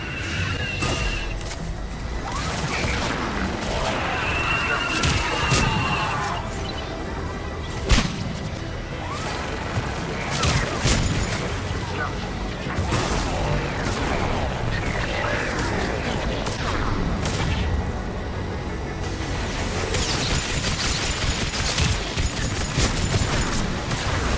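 Missiles fired in a rapid salvo during a Mass Effect 3 battle over Thessia, a dense string of whooshes, swishes and booming impacts layered over constant loud combat noise, with a voice briefly audible.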